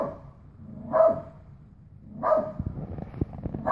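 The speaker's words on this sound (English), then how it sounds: "just to prove that the dog's not barking at me" A dog barks three times at a steady interval of a bit over a second, moderately loud and slightly distant, with some low background rumble between the barks and no talking.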